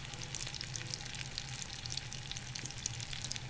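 Chicken breasts searing in a hot pan, a continuous close crackling sizzle with dense spits and pops, steady and moderately loud, with no talk.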